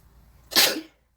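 A single sharp sneeze bursts out after a moment of quiet, loud and close, then trails off into silence.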